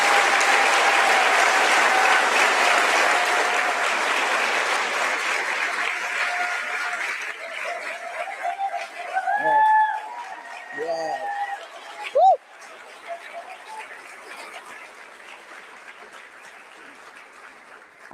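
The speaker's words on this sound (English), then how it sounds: "Let's have a round of applause again for all of these heroines." An audience at the Commonwealth Heroines celebration claps loudly and continuously, the applause thinning after about seven seconds. Scattered chirps and a few voices follow, with a brief bump near twelve seconds.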